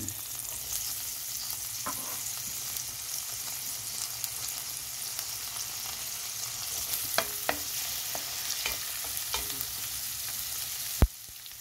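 Chopped onion sizzles steadily in olive oil in a frying pan, with occasional scrapes and clicks of a utensil stirring it and a sharp knock near the end, all close by and without talk.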